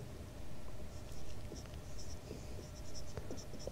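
Pen or chalk scratches faintly in soft, uneven strokes while writing during a maths lesson on congruent triangles, set against low room noise and a high, insect-like background hiss.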